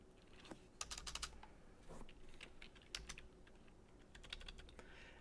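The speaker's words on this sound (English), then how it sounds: "since I'm typing this in" Quiet typing on a computer keyboard, irregular bursts of quick key clicks with short pauses between runs, close and faint, no talking.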